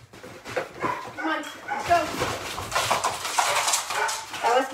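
Several large labradoodle dogs whimpering and giving short barks indoors, irregular yelps and whines close by, mixed with a person talking over them.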